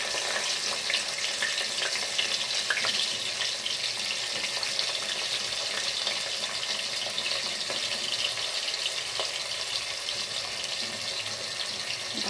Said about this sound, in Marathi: आणि आता मी यामध्ये थोडा नाही कांदा टाकत आहे